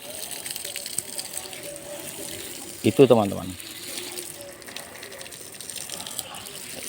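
Water gushes and splashes in a steady stream onto adenium plants in a garden beneath a brief spoken phrase, with a quieter wash of flowing water continuing around it.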